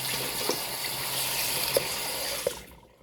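Water runs steadily from a tap during washing, a constant close hiss with a few faint knocks, then it stops abruptly near the end.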